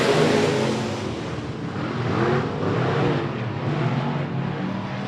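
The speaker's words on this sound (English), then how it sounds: "He looks to the flagman and steps on the gas. Green flag, green flag." Race cars at a speedway roaring as the field takes the green flag, a loud continuous engine wall with rising revs across the whole stretch.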